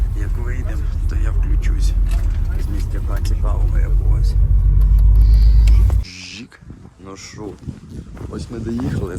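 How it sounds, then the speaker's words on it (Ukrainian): A tour bus engine rumbles low and steady while riding en route to Tustan Fortress, loud for six seconds before dropping to a quieter drone as a person talks nearby. "Це наш автобусик."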